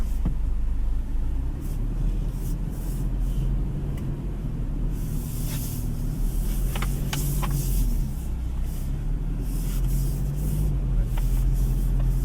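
A 2026 Toyota Hilux driving slowly in 4H, giving a steady low engine rumble and road hiss heard from inside the cabin, with occasional light rattles.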